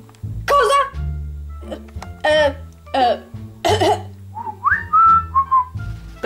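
A person whistles short, rising and wavering notes near the microphone, broken up by low throat sounds and brief vocal noises in a quiet indoor room.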